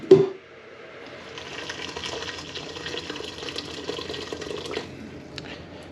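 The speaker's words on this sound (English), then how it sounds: "I'm going to put hot water in it, boiling" Hot water poured from a kettle into a container of water for dyeing Bronze Mallard fabric with Vineyard cinnamon dye, a steady splashing pour lasting several seconds after a brief knock, fairly close.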